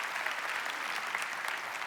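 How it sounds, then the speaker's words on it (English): An audience at a live talk applauds for a couple coming up on stage, a steady, moderately loud wash of clapping throughout. "let's give them a big round of applause"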